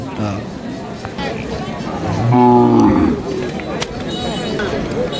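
A cow at a busy cattle market lets out one loud, drawn-out moo close by, over a background of crowd chatter and people talking.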